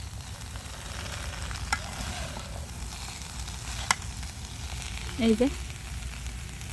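A vegetable bhaji fries quietly in a pan on a stove, a soft steady sizzle with a couple of faint clinks, and a brief spoken remark near the end.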